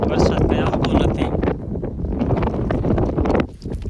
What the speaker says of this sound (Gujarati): આ એક બાજુ પવન ચક્કી છે અને ફૂલ પવન નાખી